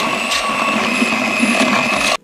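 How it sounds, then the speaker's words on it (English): A steady, high-pitched electric blender motor whirs continuously with a grinding, churning texture while scooping out a pumpkin's insides, running loudly until it cuts off abruptly near the end. "I think I'm gonna try the electric blender hack"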